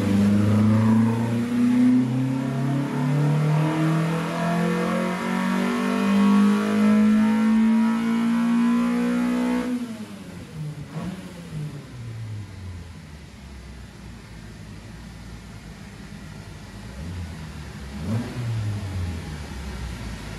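A Volvo 245's 531 four-cylinder engine, fitted with stock valves and raised compression, revs hard on a dyno, its pitch climbing steadily under load for about ten seconds before dropping off and winding down with rougher, lower rumbling.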